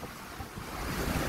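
Strong wind at Nacpan Beach roars across the microphone as a dense, steady rush that builds slightly over a second and a half, with surf folded into the noise and no voices.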